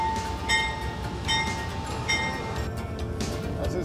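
A train begins to roll, a rumbling rail clatter with faint metallic clinks and a steady hum, moderately loud and close, with no talk.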